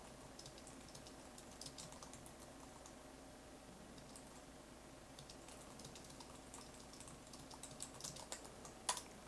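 Typing on a computer keyboard during a fantasy football draft, faint and quick clicking in irregular runs, with a sharper tap near the end and no talking.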